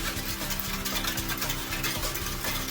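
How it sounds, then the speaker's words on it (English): A whisk beats ingredients in a bowl, making quick repeated stirring and scraping strokes in a steady rhythm, fairly close and alone. "you take your whisk, get everything mixed up really good"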